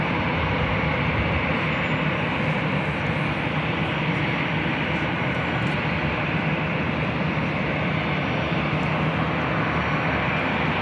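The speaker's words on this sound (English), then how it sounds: "There is a Delta A320. They'll be taking off to Portland, flight 2457." A Delta Airbus A320 departing Los Angeles for Portland roars steadily at full takeoff power, a broad continuous jet rumble that holds even in loudness throughout with no voices.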